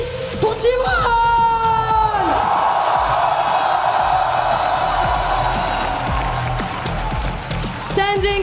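A large crowd at a League of Legends esports event roars and cheers loudly and continuously, with a man's amplified French yell over the noise at the start and end.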